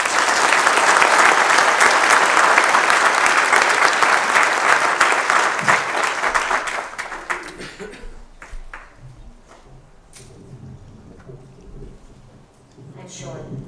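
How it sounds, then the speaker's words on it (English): Loud, full audience applause welcoming Vice Mayor Kathy Watanabe of Santa Clara at an interfaith gathering, dense for several seconds before fading out, then quieter room sounds with a few scattered noises. "Please welcome her up with a loud round of applause."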